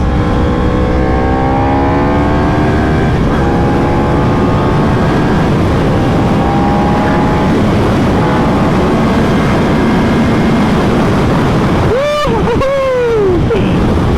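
Engine of a Yamaha R1 1000cc sport motorcycle accelerating, with a loud, continuous roar and rising tones climbing through the gears, and a sharp high rev swell near the end.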